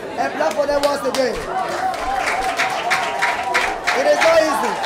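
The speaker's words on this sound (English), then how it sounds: "wonderful play. And clap for them once again." Audience clapping and cheering for the cast at the close of a play, a dense wash of applause mixed with crowd chatter, with a voice speaking over it throughout.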